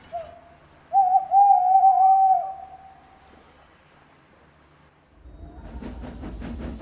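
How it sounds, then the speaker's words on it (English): An owl hoots from a nearby tree on a misty night beside an old railway line in an animated Halloween story, a single drawn-out hoot rising clear and close, then fading before rumbling noise takes over. "sound of an owl hooting in a nearby tree"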